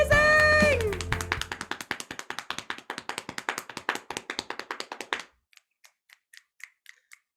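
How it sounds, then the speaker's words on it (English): An audience claps for a poet at a community jam: a cheer and voices up front, then dense rhythmic applause that thins into a few scattered, sharp claps before fading out. "Round of applause for Chris."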